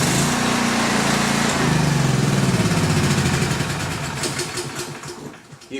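Portable generator with electric start and choke lever running with a steady, loud light-engine drone that continues throughout, tapering slightly toward the end, with no talking.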